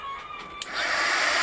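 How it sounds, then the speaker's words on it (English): A heat gun blasts a paper craft butterfly, starting with a faint hum and a click, then swelling into a loud, steady rushing whoosh of hot air close by. "what I'm going to go ahead and do is just go ahead and hit this with the heat gun"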